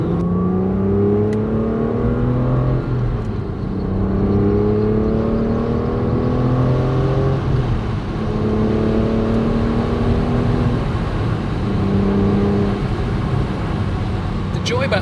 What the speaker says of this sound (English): The joy about this V12 is it just pulls and pulls and pulls and pulls and pulls.